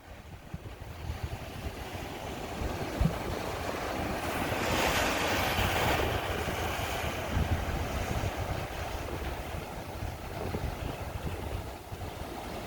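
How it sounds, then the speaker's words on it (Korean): Ocean waves wash steadily onto the Monterey shore after rain, a soft continuous surf roar with a gentle swell in the middle, mixed with some wind noise and no voices. "비온 뒤에 맑은 또는 파란 하늘이 있는 몬트레이의 그 바닷가 그리고 파도 소리를 잠시 감상해 보시죠"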